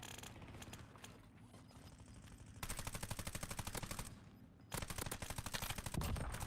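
Sustained automatic gunfire in the Call of Duty Black Ops battle royale mode rattles in loud, rapid bursts, pausing briefly before hammering on again, dense and close.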